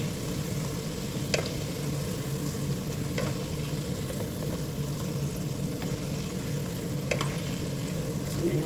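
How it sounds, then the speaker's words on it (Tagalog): French fries sizzle steadily in hot frying oil, a continuous close hiss and crackle with a few sharper pops along the way. "Ayan, tumutunog ang ating french fries."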